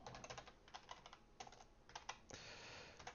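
Rapid typing on a computer keyboard, close and quiet, with clustered key clicks in uneven bursts ending in a short continuous rattle of keys.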